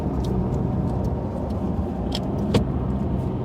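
Steady low rumble from inside a car creeping through morning traffic, the road and engine noise constant and close, with a few faint clicks and rattles on top.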